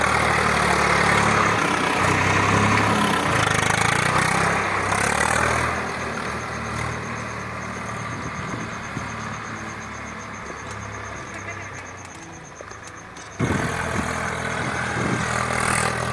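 A tractor engine ploughing a hillside field drones continuously, loud and close, with a sharper burst of noise near the end.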